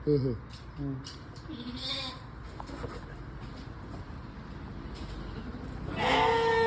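Rams on a farm bleating in a few short, wavering calls, close by, under steady talk from people nearby.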